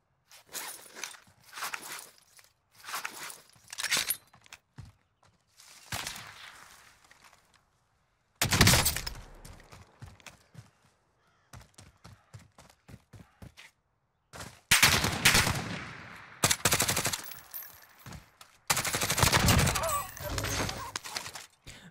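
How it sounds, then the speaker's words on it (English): Gunfire in the video game Warzone, many sharp, close bursts and rapid volleys in irregular clusters, separated by short gaps and quieter shuffling movement sounds. "Shots."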